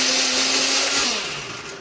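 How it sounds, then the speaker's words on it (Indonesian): A blender whirs steadily as it grinds a spice paste with water for a Manado-style dish, a loud continuous motor drone whose pitch sags slightly near the end, with no talking. "bumbu ini akan kita haluskan ya. Flavis bisa menghaluskannya menggunakan blender ataupun pakai chopper."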